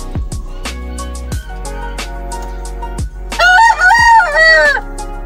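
Several roosters crow loudly one after another, with hens clucking close by.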